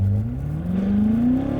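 A 650 hp BMW F10 M5 with a 4.4-litre twin-turbo V8 pulls flat out from first gear, a loud, steady engine roar whose pitch climbs smoothly as it revs.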